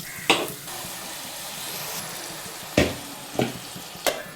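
Tomatoes hit a hot pan already holding ginger, garlic, green chilli, small onions and turmeric, frying with a steady sizzle and several sharp stirring clacks of a spoon against the pan.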